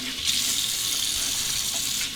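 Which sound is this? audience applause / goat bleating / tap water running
tap water running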